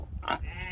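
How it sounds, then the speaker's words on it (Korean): A hungry farm pig at a pig-raising home in Senegal lets out one short, close grunt in a brief snippet. "배고파서 밥 달라고 지금 꿀꿀거린다."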